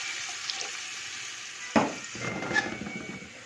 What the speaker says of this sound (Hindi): अभी इनको अच्छी तरह मैं यहाँ पे भून लूँगा,